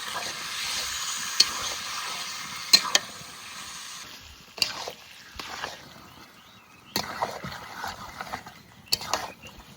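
Chicken meat goes into spiced masala frying in oil in a village kitchen, giving a soft, steady sizzle with scattered clanks and scrapes of stirring and a few quiet background sounds.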